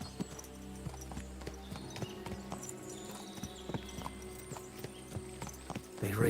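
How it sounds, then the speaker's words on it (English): Horse hooves clip-clopping in the video game Kingdom Come Deliverance II, a steady, fairly quiet rhythm of hoofbeats over ambient game sound, with a faint neigh near the end. "Horse."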